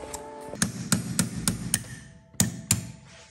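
Sharp metallic taps of a small hammer driving a pin punch on a Pierburg 2E carburetor from a VW Golf 1 Cabriolet, about eight distinct close strikes in an irregular rhythm with short pauses, no talking.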